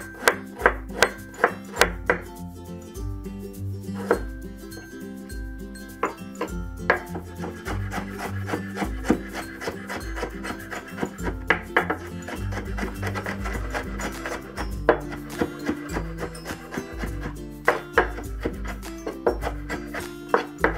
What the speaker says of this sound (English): Next, let's mince the ginger and garlic.